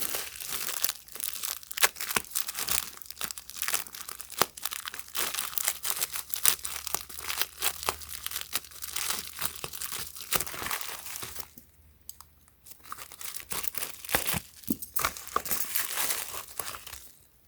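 A plastic bubble envelope crinkles and tears open up close, a dense, continuous crackling with a short pause near the end before the rustling resumes.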